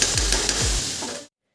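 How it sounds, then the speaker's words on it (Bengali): Cauliflower and fish fry in a pan with a close, busy sizzling hiss and a couple of low clattering knocks, cutting off abruptly after just over a second. "চলো ভাজাটা সেরে নিই"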